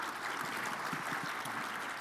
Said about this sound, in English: everybody ought to give you a big round of applause for that